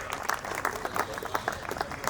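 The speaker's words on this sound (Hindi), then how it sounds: "जोरदार तालियों से स्वागत।" Steady audience applause fills a hall at a community conference in Guna, Madhya Pradesh, with dense, continuous clapping and no speech over it.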